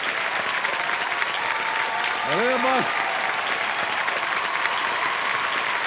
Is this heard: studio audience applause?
yes